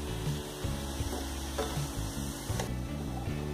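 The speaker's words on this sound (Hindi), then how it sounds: "गाजर को हमें घी में 10 से 15 मिनट तक भूनना है" Grated carrots fry in ghee for gajar ka halwa, a steady close sizzle broken by repeated scraping and knocking of a spoon stirring the pan.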